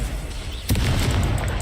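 A fire spell cast in the Hogwarts Legacy video game bursts out suddenly as a loud whooshing boom, followed by a sustained roaring crackle of flame.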